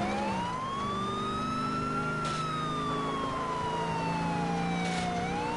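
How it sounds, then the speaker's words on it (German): A police car siren wails in GTA IV, a loud continuous rising and falling tone over engine and traffic noise, close and without talk. "Ich mache schon mal die Sirene an, damit die uns ein bisschen Platz machen und so."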